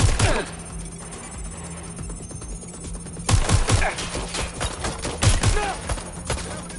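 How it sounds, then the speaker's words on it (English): Rapid bursts of gunfire during a shootout in Watch Dogs Legion, starting with a sharp volley, then a dense, loud run of repeated shots and thuds through the second half. "Suspects shooting!"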